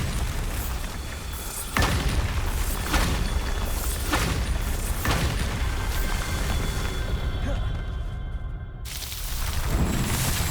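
Bombarda spell blasts go off in Hogwarts Legacy, a series of heavy booming explosions arriving every second or so over a dense, busy game soundscape with a voice speaking in places.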